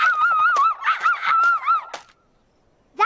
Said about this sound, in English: That's a laughing kookaburra. They're known for their distinctive laughing call